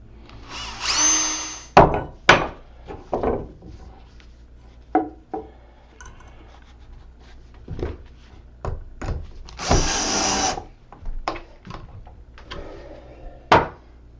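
Power drill driving 3/4 inch screws into a wooden TV stand, heard as several short bursts of close, whirring drilling separated by pauses, with knocks and handling of the wood between them.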